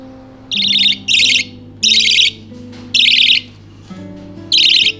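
Budgies chirp in short loud bursts inside a giant bird cage, five or six bright chattering calls spaced with brief pauses, close by against a low background hum.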